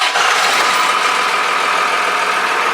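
Diesel engine of a Jeep XJ with a Cummins swap running steadily, a loud, dense, continuous rumble close by with no talk.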